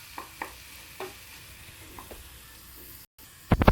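Crushed garlic and onion cooking in a pan for a prawn dish, with a faint low sizzle and a few soft stirring scrapes, then louder clattering of the pan at the end, with no talk.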